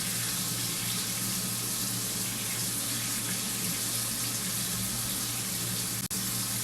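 A tap runs steadily into a sink as a face is rinsed, a close, continuous hiss of splashing water with no pauses apart from one tiny click near the end.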